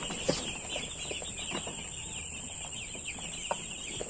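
A flock of about two hundred broiler chickens on a farm clucks softly and steadily, with scattered short calls over a constant high insect-like hum and an occasional wing flap.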